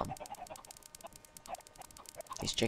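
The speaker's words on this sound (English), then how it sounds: "it's cut short by, the chicken sounds." Chickens cluck in a video game, a busy scatter of short fowl calls layered over game ambience, with a louder burst near the end.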